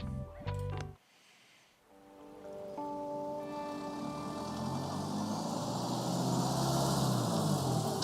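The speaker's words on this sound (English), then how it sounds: "Do you like the rain?" Rain falls in the Tiny Bookshop video game: a few soft tonal notes give way to a steady hiss of rain that swells and fills the scene, heard alone without voices.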